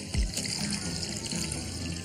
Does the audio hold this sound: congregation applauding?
no